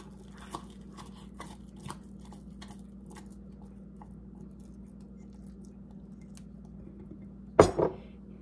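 Sourdough starter is stirred in a bowl with a utensil, giving soft, regular wet scraping ticks about twice a second over a low steady hum, followed near the end by a louder clunk.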